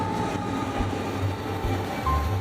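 A freight train led by a GE Evolution locomotive rolling past in Utah makes a loud, steady rumble with low engine drone and faint clicking of wheels, continuous throughout.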